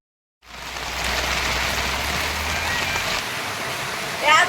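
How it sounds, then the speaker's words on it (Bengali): Heavy rain begins after a brief silence and keeps up a steady, dense hiss of pouring water, close and constant to the end. "এত জোরে বৃষ্টি হচ্ছে"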